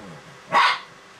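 A single sharp dog bark, close and loud, rising out of a quiet room with the faint background whir of a computer system running at idle.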